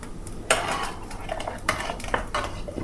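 A metal spoon clinks and scrapes against a pan heating for ghee to roast semolina for gujiya, with several sharp taps and a steady clatter up close and no talking.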